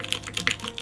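Keystrokes on a Norytek70 mechanical keyboard with no foams inside, a quick run of four or five close, clacky presses with a slightly hollow tone.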